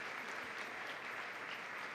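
A church congregation applauds in a steady, dense wash of clapping that holds at an even level for the whole stretch, with no voices rising above it.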